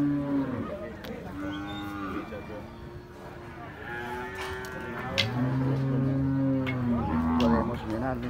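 A bull at a livestock market in Santa Rosa de Lima moos in several long, loud, drawn-out calls close by, with other cattle lowing and faint talk and crowd noise underneath.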